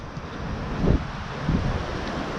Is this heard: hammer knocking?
no